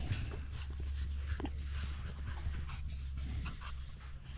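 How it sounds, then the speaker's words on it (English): Young puppies on a Montana farm pant quickly and steadily close by, with faint whimpers over a low background hum. "Look at all them puppies."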